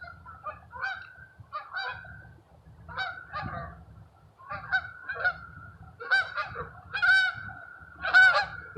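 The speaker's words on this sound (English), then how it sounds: "The ducks just flew exactly overhead." Waterfowl flying overhead give repeated nasal honking calls. They come in quick bursts of overlapping voices that grow louder toward the end, over faint low background noise.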